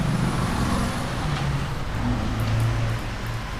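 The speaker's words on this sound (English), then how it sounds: "As our noisy car goes by." A noisy car rolls past a rail-cam spot at Bristol Union Station, a steady broad road rumble with low engine tones holding for several seconds before easing slightly.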